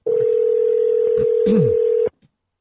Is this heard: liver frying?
no